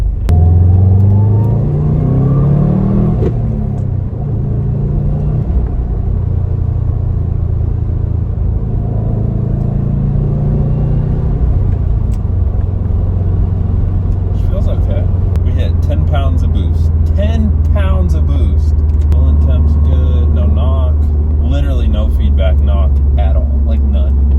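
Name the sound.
Subaru STI car engine accelerating at full throttle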